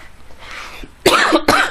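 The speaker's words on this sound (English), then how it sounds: "She's got a little bit of a cough attack." A woman has a coughing fit, two harsh, loud coughs in quick succession after a quieter lead-in, close to the mic with no talking.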